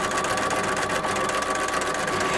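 A sewing machine running steadily on decorative stitching across an apron with top thread tension lowered to zero, a continuous close, even mechanical whir with no pauses and no voices.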